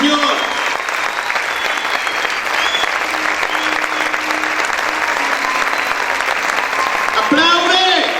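A church congregation claps loudly and continuously, a thick steady wash of applause with voices calling out over it, briefly louder at the close.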